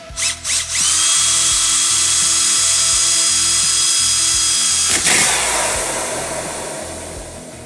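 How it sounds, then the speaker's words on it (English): A power drill revs in two short bursts, then whines continuously at close range, its pitch dropping as it bites into material and slowly winds down. "This is my first time drilling into something like this."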